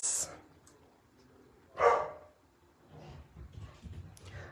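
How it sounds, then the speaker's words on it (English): A dog barks from a hallway, a sharp bark at the start and another louder one midway, followed by muffled shuffling and movement. "I hear the dog out in the hallway."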